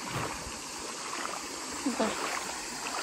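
Water of a cold spring stream flows steadily over slippery stones, a continuous broadband rush with faint trickles and a soft splash near the end, heard up close.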